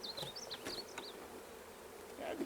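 Soft, steady buzzing of bees, a continuous insect drone with a few louder passes close by.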